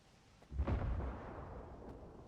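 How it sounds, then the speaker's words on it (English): A single muffled thunder rumble from a storm in the video game S.T.A.L.K.E.R. 2 swells and slowly fades, distant and fairly quiet with no voices. "I'm still hearing lightning out there."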